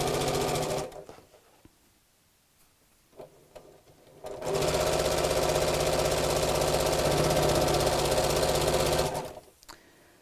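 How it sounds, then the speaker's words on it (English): A sewing machine stitches straight across the lining of a fat-quarter tote bag in a short run, stops, then starts again. The second run is a long, steady, loud mechanical whir that fades out near the end. "And sew straight across."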